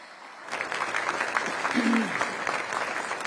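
After a short quiet moment, steady applause breaks out from guests at a Patriot Day remembrance breakfast in a hotel venue, thanking the event sponsors; the clapping is moderately distant and sustained.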